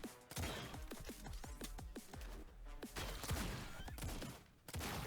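Rapid bursts of assault rifle gunfire in the fast-paced shooter game Autogun Heroes, loud repeated shots with impact crashes layered over a constant busy game soundscape.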